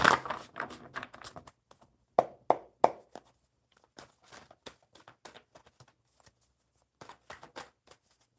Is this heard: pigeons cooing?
no